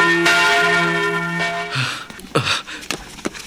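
A church bell rings out with long, sustained tones that fade, followed by a few sharper clangs and knocks near the end.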